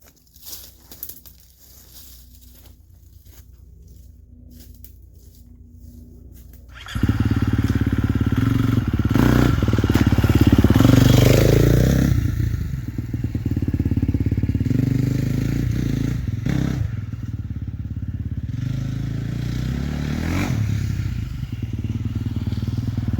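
Dirt motorcycle riding up and over a log on a trail, engine idling low at first, then revving loudly and roaring close by with throttle surges and knocks as the bike clears the obstacle.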